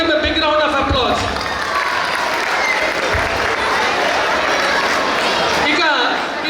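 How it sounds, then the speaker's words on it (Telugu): Audience at a sponsorship appreciation event breaks into loud, sustained applause, dense clapping from a large crowd holding steady for several seconds with some cheering mixed in. "please give them a big round of applause"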